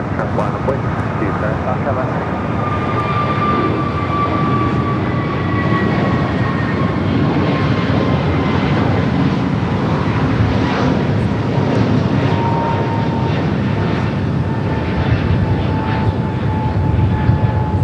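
A Frontier Airlines jet arriving from Las Vegas at LAX gives a steady, loud engine roar with a slowly falling whine, filling the whole stretch over continuous background rumble, with talk mixed in.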